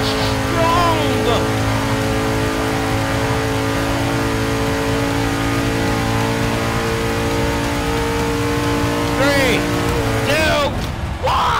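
Race car engines in Forza 6 roar and rev continuously at close range, a steady harmonic drone with rising pitch sweeps near the end, loud throughout.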